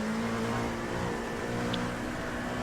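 A race car in the iRacing simulator, an IMSA round at Charlotte, holds a loud, steady engine drone with a sustained humming pitch from close by throughout, no voices.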